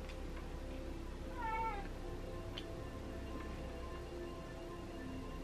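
A pet cat gives a single short meow, fairly close but soft against a steady background hum, with faint ticks elsewhere and no talking.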